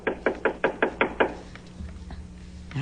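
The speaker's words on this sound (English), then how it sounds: "that sounds like a knock to me" Seven quick, evenly spaced knocks rap on a solid door, close and crisp, followed by quieter room sound and a faint low hum.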